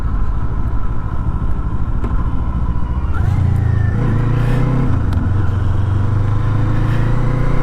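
Kawasaki Eliminator 500 motorcycle engine on a ride, steady loud drone that drops in pitch and surges as the rider downshifts partway through, with heavy wind rumble throughout.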